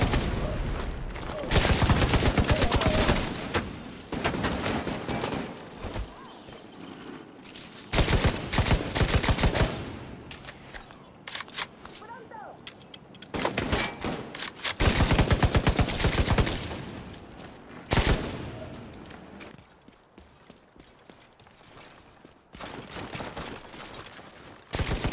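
Shootouts in The Division 2 bring bursts of rapid automatic gunfire and explosions, loud clusters of shots separated by quieter gaps across the stretch.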